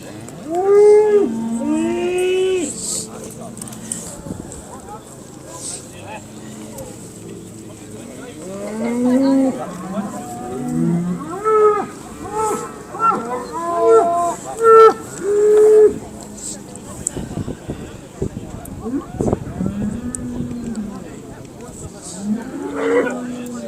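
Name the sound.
Simmental cattle mooing at Scottish national show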